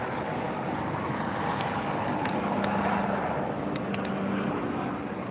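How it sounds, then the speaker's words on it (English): A rescue helicopter passes over Ballona Lagoon, a steady broadband rotor and engine rumble that holds at an even level for the whole stretch, with a few faint chirps above it and no talk. "Rescue helicopter, excuse me."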